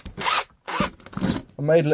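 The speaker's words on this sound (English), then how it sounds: "quickly burnish the edges" Three short bursts of rasping friction as a spinning sanded wooden dowel in a drill burnishes the edges of a black leather knife sheath, then a brief higher whirring tone at the end, close and fairly loud.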